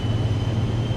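A Vision Jet engine at full takeoff power in Microsoft Flight Simulator 2024, a steady, loud droning hum with a low tonal core and a faint high whine, unchanging across the moment.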